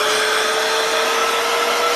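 A powerful cordless air blower gun roars continuously at close range as it blasts dust out of a household vacuum cleaner filter, a loud steady rushing whoosh with no talk.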